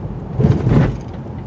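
A 2019 Honda Passport AWD Elite rolling over a road bump, heard from inside as a brief, muffled low thump and rumble that swells and fades within about a second.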